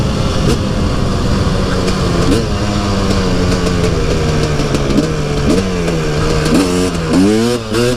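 A KTM 300 two-stroke or YZ450FX dirt bike engine revs hard up close in the woods, its pitch rising and falling through several throttle blips over a steady loud drone, with no talking.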